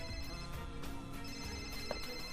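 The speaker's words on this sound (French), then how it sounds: "Ma chérie, ton téléphone." A mobile phone rings faintly and steadily for a couple of seconds, its electronic tone sitting low in the background with no talking over it.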